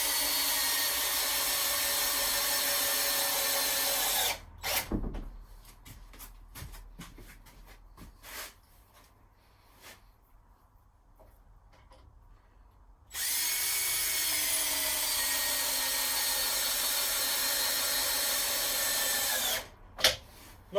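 A power drill drives coach screws into the timber of a lean-to high seat. The motor whines loud and steady, drops into a quieter stretch of knocks and creaks while it pauses, then runs at full speed again.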